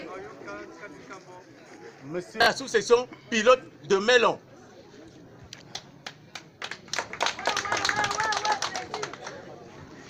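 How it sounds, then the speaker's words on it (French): An audience at a local election campaign gathering bursts into scattered applause after someone speaks, the clapping swelling into a loose, uneven patter that continues in the background. "Est-ce qu'on peut applaudir pour..."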